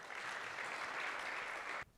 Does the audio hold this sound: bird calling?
no